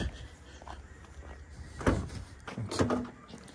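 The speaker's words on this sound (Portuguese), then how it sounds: "Vou mostrar pra vocês o porta-malas aqui também." A car trunk opens with a couple of dull latch clunks and thumps, one near the middle and another shortly after, against quiet background noise.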